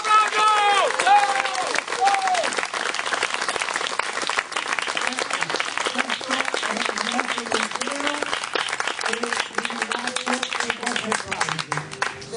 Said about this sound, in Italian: Vi invito a fare un forte e importante applauso.